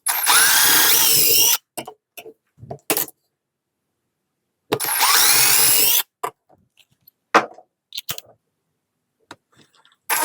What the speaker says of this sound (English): let's go ahead and pre-drill the holes and install these little screws